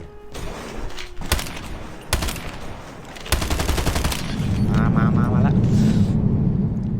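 HG-40 submachine gun firing in the Call of Duty Mobile Domination match on Nuketown: several loud, rapid bursts of automatic fire in close succession, then a rumbling swell of game noise and ambience.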